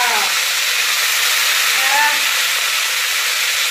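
Loud, constant hiss of live pond crabs frying in hot oil for a spicy curry, a dense steady sizzle filling the whole stretch with faint faint tonal squeaks.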